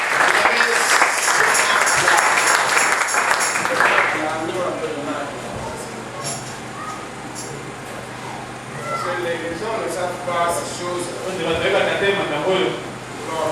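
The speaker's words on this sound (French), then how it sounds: "Applaudissez pour le Seigneur." Church congregation at a French-language sermon applauds loudly for about four seconds, then the clapping fades and a preacher's voice continues speaking over room ambience.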